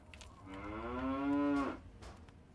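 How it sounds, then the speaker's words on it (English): Cow in Fallout 3 letting out a single drawn-out moo as it is tipped over, close and clear against a quiet background with no talking. "Cow tipping."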